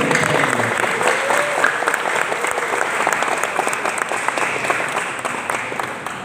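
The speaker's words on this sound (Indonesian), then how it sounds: "Tepuk tangan yang mulia." Audience applause at a regional Islamic quiz competition semifinal, many hands clapping steadily with distinct individual claps audible, sustained for over six seconds and gradually easing.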